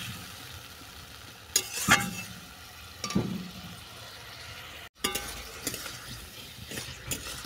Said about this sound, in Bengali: টমেটো আর কাঁচা লঙ্কা দেওয়ার পর আরও 3 মিনিট আমি কষিয়ে নিয়েছি